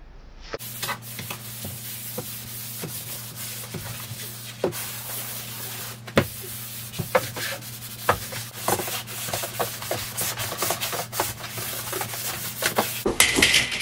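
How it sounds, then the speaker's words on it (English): Steady rubbing and scraping of sandpaper over wood panel walls during a home office makeover, running continuously at close range with scattered sharper knocks and a constant low hum underneath, no talking. "I'm gonna finish sanding the walls"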